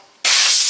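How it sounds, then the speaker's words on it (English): A sudden, loud, steady blast of compressed air cleans out a part from a Polaris RZR XP 1000 clutch, starting abruptly after a moment of quiet and hissing on close and constant. "Blow her out."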